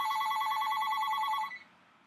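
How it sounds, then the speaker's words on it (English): A mobile phone rings with a bright, rapidly warbling electronic tone that repeats steadily for about a second and a half, then cuts off abruptly, leaving a faint room hush. "Of course, the phone goes off."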